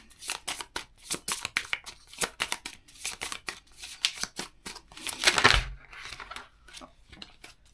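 Cards being shuffled for a card draw: a long run of quick riffling and snapping bursts in an uneven rhythm, close and crisp, with a fuller riffle near the end.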